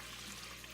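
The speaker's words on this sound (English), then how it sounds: "I'm gonna start with 2 quarts of water" Water pours steadily into a pot at the start of a gumbo, a short soft hissing stream with no pause.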